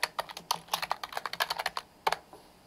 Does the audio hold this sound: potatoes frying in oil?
no